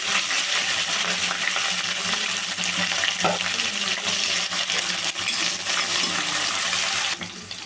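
Onion pieces, cumin seeds, dried red chillies and curry leaves sizzle steadily in hot oil for a Telugu instant brinjal fry, a dense continuous frying hiss with small crackles, no talking.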